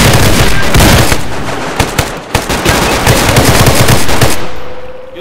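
Gunfire in the video game Stalker, loud and dense, with rapid bursts and sharp shots over a constant noisy wash that fades near the end.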